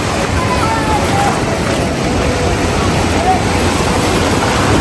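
Sea surf and wind roll continuously onto the shore at Cox's Bazar, where fishermen's sampan boats come in through the waves; a loud, steady, close wash of water and gusts with no pauses.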